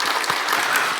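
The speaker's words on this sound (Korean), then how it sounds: "박수 한번 드립시다" Church congregation applauding a choir after a sermon passage, a dense, steady burst of clapping filling the whole moment, loud and close.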